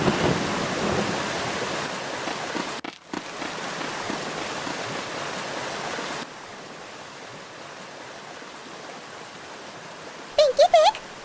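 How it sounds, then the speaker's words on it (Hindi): Steady rain hisses close by with a low rumbling undertone like thunder, briefly cutting out and then continuing more softly. "ये बारिश भी कहाँ छुपी थी जो आ गई यहाँ पे"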